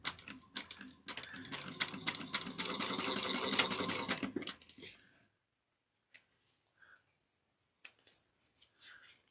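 A sewing machine back stitches a bucket bag seam in a dense, rapid run of needle strokes for about five seconds, then stops, leaving near silence with a few faint clicks.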